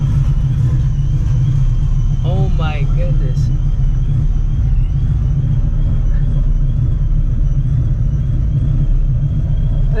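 Procharged 2V Mustang GT engine with open exhaust cutouts rumbles steadily in a deep, loud, close idle, with a brief voice partway through.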